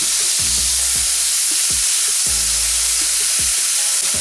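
A hamburger patty sizzles steadily in a hot pan while it is turned and pressed, with a constant bright frying hiss and a few dull thumps and scrapes from the spatula.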